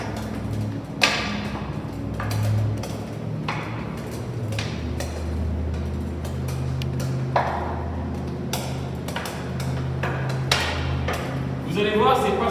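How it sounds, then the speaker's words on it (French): A floorball ball is dribbled with a hockey stick, making irregular close taps and knocks scattered through the scene while someone speaks French over them. "Vous prenez votre crosse, une balle. Moi j'ai pris une balle de floorball. Et vous pouvez faire le même exercice, toujours en dribblant."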